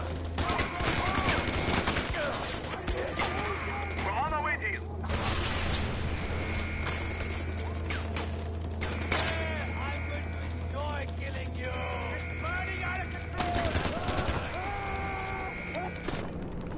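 Rapid bursts of automatic gunfire and scattered shots ring out in a Far Cry 4 firefight on PS4, layered with a steady engine drone and game voices talking over the action.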